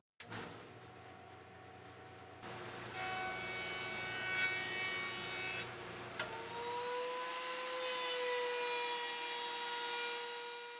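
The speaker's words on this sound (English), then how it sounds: "I jointed and planed the boards." Wood pallet boards are fed through a jointer and planer, producing a steady machine roar with cutting noise, a couple of short knocks and a shift in pitch as the boards pass through.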